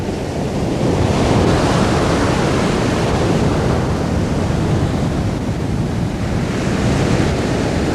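White surf pounds the coast at Dyrhólaey, Iceland, in storm winds, a loud, unbroken roar of breaking waves mixed with heavy wind buffeting, steady throughout with no voices.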